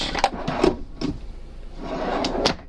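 Storage drawers slide open and shut beneath the lifting bed of a 2017 Airstream Classic 33 travel trailer, several short knocks and slides in close succession, close and fairly clear, no voices.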